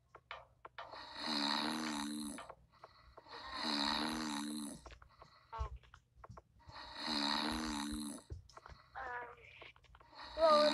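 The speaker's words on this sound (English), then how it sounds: "Do you hear that? There's like snoring." Rhythmic snoring from an unseen sleeper hidden among boxes, three long rasping inhalations spaced about two seconds apart, fairly close and steady, followed by shuffling and small movement noises.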